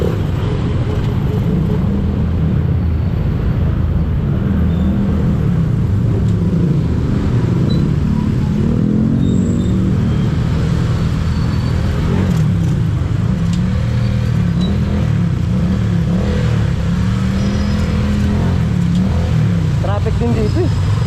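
Steady road traffic in a busy street, car engines and motorcycles rumbling and revving nearby throughout, with people talking over the continuous din.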